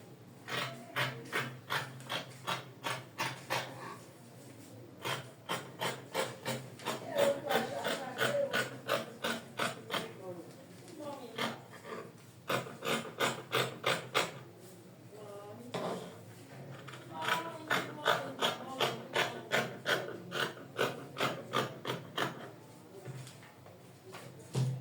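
Scissors snipping fabric for a child's bubble gown, a rapid run of crisp close cuts in bursts with short pauses between, quiet and steady on a table.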